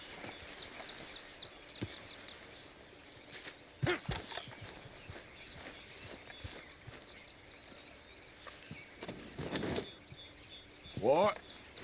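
Horse hooves clip-clopping in the video game Red Dead Redemption 2, irregular close thuds and steps over quiet outdoor ambience with birds and insects, with a few louder bursts and a person talking at times.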